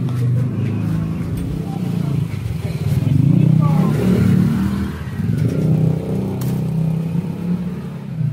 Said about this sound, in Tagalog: Mga motor dyan ah.